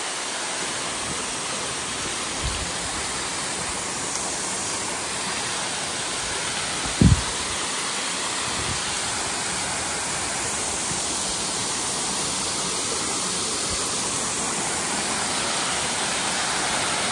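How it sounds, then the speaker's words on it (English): Beauchamp Falls, a small waterfall, pours in a steady broadband rush that holds unbroken throughout, with one brief knock partway through. "Not a bad little fall."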